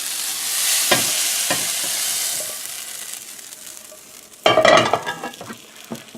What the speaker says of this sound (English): I'm going to bring this stuffing down in there.